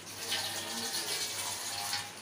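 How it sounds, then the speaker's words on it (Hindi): Water is poured steadily into a pot of chickpeas and rice while chole rice is being cooked, making a continuous close hiss and splash. "फिर देखें पानी डाला।"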